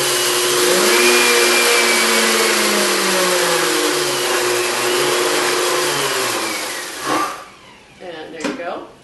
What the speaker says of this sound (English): just whiz them up in your blend tech